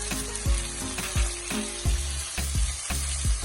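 Saltfish frying in a hot pan for a Jamaican ackee dish: a steady close sizzle, broken by rhythmic scraping stirs roughly every half second.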